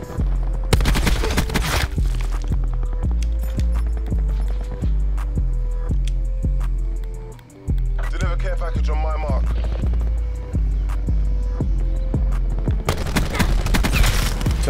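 Rapid, loud gunfire in a first-person shooter video game, a long run of evenly spaced shots with a brief pause midway and denser bursts at the start and end.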